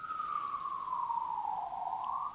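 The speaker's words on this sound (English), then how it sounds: "Sorry about the sirens." An emergency vehicle siren outside wails, sweeping slowly down and back up in pitch, steady and moderately distant, with no other sounds over it.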